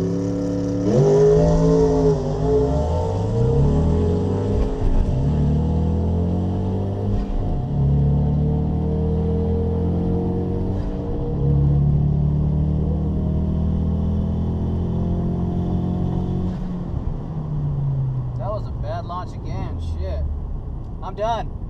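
A Ford Mustang EcoBoost launching on a drag strip, its engine loud and close with rising, stepping pitch through the gears for about twenty seconds before easing off, with faint voices near the end.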